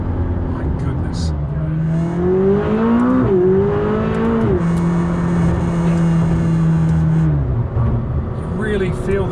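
A McLaren 600LT sports car engine revs and accelerates through gears, its rising drone climbing, dropping at shifts, then climbing again, loud and close from inside the car.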